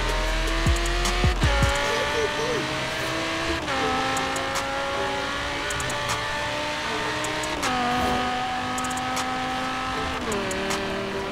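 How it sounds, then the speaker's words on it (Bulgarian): An Audi R8 V10 Plus in Forza Horizon 3 revs hard and close, its V10 engine climbing steadily through repeated gear changes with brief dips between each pull. "Аудиото има много брутален звук, забележете."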